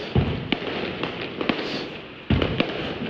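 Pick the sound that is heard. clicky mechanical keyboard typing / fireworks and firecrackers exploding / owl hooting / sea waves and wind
fireworks and firecrackers exploding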